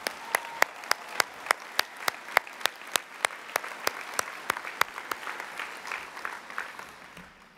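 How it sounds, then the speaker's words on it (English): A single pair of hands claps in a steady, evenly spaced rhythm over a faint bed of distant crowd applause, crisp and fairly close, with no talking. "If we can give them another round of applause."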